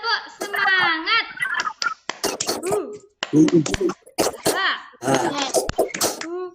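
Children perform a rhythmic group clapping routine in a classroom, sharp bursts of claps in a patterned beat mixed with the kids' chanted and shouted voices.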